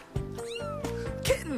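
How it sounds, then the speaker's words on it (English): A kitten meows close up, three or four short rising and falling cries in quick succession, loud and clear, with no talking. "Kittens love to be petted and scratched."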